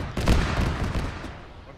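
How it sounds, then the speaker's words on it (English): Heavy bursts of autocannon fire in a video game boom in a quick cluster of thumping shots that fade out over a second or so. "That's an autocannon."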